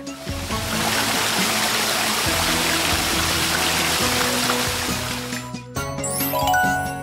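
Water from a hose sprays onto a foam-covered truck in a steady, loud rushing hiss over background music, cutting off briefly near the end.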